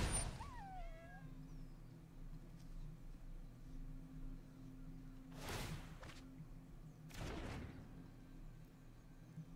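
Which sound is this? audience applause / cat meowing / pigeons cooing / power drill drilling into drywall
cat meowing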